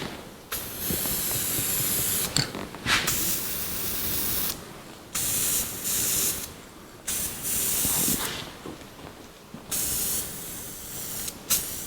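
A spray gun lays the third and final base coat of paint onto a 1982 Jeep CJ7 tub, a loud steady hissing spray in repeated passes of several seconds with short pauses between them.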